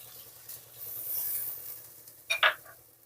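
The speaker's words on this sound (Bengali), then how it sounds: "দিয়ে এটাকে সুন্দর করে কষিয়ে নিতে হবে" A spoon stirs and scrapes an egg and soybean curry with Kashmiri chili powder in a pan, soft faint scraping with a brief louder clatter near the end and a gentle sizzle beneath.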